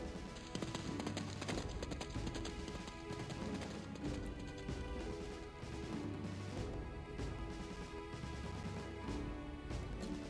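Horses gallop in a Suikogaiden game scene, with steady rhythmic hoofbeats layered over busy battle-style music, faint and continuous throughout.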